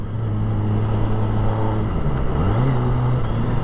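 A Kawasaki ZX25R motorcycle engine holds a steady, loud rev close by, then dips and climbs again to a higher pitch, with no talk over it.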